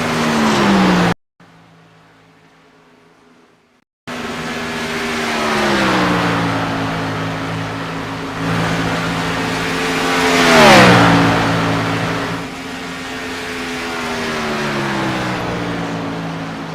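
Race cars in an Xfinity series video game at Las Vegas Motor Speedway roar steadily with layered engine drones, a short near-silent gap early on, then a loud pass with a sharp pitch swoop near the middle as cars jostle for position.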